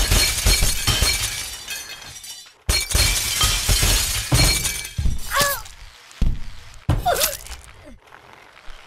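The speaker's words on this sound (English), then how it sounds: "Glass fall." Glass falls and shatters in the Happy Wheels video game, loud bursts of crashing and tinkling shards, several breaks in succession with brief gaps and ringing fragments toward the end.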